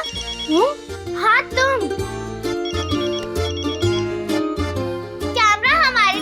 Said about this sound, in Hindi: परी बिटिया, आपका फोन वहाँ बज रहा था, शायद आपकी किसी सहेली का फोन है।